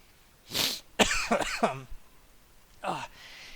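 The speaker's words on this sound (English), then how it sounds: "Excuse me for the coughing." A few harsh, raspy coughs and throat-clearing sounds close by from a person with a lingering cough, in short bursts separated by brief pauses.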